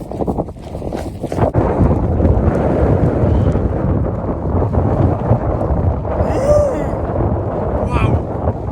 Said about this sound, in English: Oh my god, that wind is freezing.